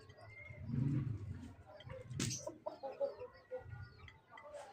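A young hen makes a string of soft clucks and short coos close by, irregular and fairly quiet, with brief rustling between calls.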